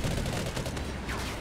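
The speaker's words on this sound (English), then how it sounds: "I just shot you" Dense gunfire in Call of Duty: Ghosts, a short burst of overlapping shots packed close together and fairly loud, with no talking.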